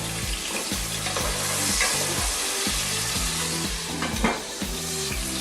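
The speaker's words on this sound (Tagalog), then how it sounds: "gisahin ko lang din yan hanggang sa lumambot yung tomato" Tomato sautés in a pan for chicken asado, a steady close sizzle with occasional stirring scrapes, while low tonal background music plays underneath.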